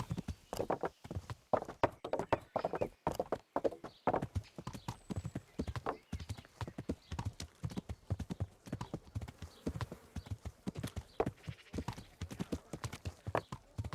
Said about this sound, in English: Horse riding through the streets at like top speed.